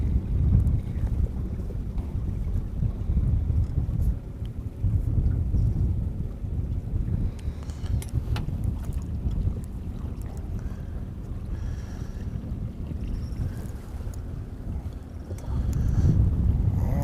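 A fishing boat motors across the channel near Eagle Island at the Narrows, its low engine rumble steady and close under gusting wind noise against the microphone.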